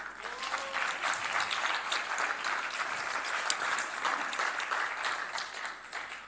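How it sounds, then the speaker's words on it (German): Lively audience applause at a symposium fills the room as a guest is called onto the stage, dense overlapping claps holding steady for several seconds without speech. "Einen fetten Applaus für dich."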